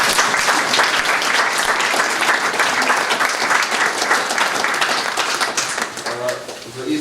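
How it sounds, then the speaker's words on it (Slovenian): Crowd applauding for a speaker's uncle at a Slovenian event, sustained loud clapping from many hands that starts to thin near the end as a voice returns. "Dajmo en aplavz za strica."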